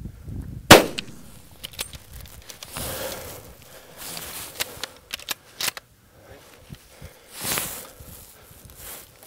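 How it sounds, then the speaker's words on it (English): A single sharp rifle shot rings out at an African buffalo during a hunt in the Caprivi, loud and sudden, followed by rustling movement, footsteps and scattered handling noises outdoors. "when you get the time, you must shoot him again"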